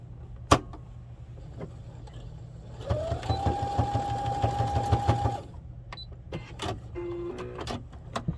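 A sewing machine stitches a tack on a soft padded figure skate guard, a steady whirring run of about two and a half seconds set between scattered clicks and handling knocks in a quiet room.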